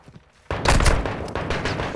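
Gunfire in the Call of Duty Modern Warfare 2 campaign: after a quiet half-second, loud rapid automatic shots burst out close and keep rattling to the end.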